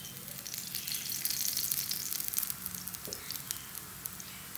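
Rice flour flatbread frying in oil on a pan, giving a steady soft sizzle with light crackling and popping that eases toward the end, close and quiet, with no talk.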